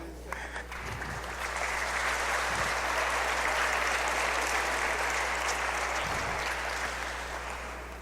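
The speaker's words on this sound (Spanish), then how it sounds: "Denles un aplauso." Sustained applause from a church congregation at a wedding-themed sermon, steady and full throughout with a slight swell mid-way and tapering at the end.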